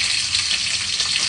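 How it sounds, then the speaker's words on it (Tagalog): Food sizzles and crackles steadily in a hot frying pan, a dense continuous hiss close by with no talking. "Kaya, prito ko na."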